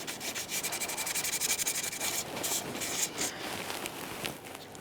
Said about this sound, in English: use a piece of fine sandpaper and give the area a light scuffing